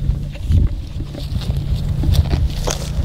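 A Can-Am Outlander XMR 1000R ATV engine rumbles close by with a low, uneven throb and some wind buffeting as the machine moves, loud and continuous throughout.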